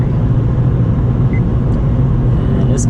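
Steady low road rumble from a Honda car cruising on a highway, the engine and tire drone loud and continuous with faint wind hiss throughout.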